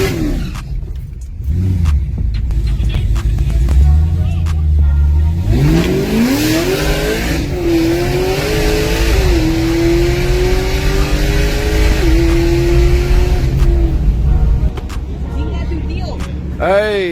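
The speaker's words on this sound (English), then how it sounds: "They need to do a full burnout." A car revs hard through a burnout at a loud street-racing event, the engine pitch climbing and holding high for several seconds over steady roar, with people talking nearby.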